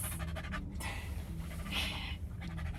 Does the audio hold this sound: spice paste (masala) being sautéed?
no